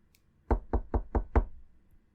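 Five sharp knocks on a door in a steady, quick rhythm, close and clear with no talking over them.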